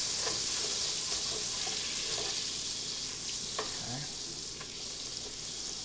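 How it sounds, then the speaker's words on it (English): Butter melts in a pan with a steady, close sizzle while being stirred, with occasional light scrapes and clinks of the utensil and no talking. "I'm gonna let the butter melt a little bit. Stir that around in here."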